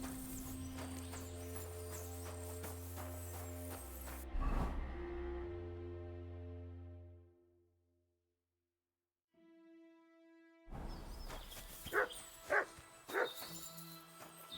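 A dog barks and yips a few times amid Kingdom Come: Deliverance 2 game music and ambient tones, with a quiet gap midway before sharper barks return.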